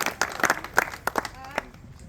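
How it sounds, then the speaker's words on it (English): A small audience at a talk on marathon running and recovery claps for itself, with scattered individual claps and a few cheers that thin out toward the end. "So give yourself a round of applause for showing up today."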